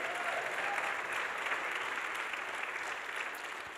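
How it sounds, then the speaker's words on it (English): A church congregation at a Sunday service applauds, steady and dense, and the clapping fades slightly toward the end with no voices over it. "Can you give God an applause"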